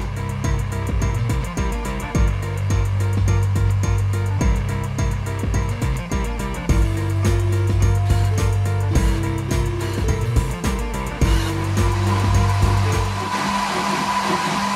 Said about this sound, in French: la troisième imprimante, la photo commence à sortir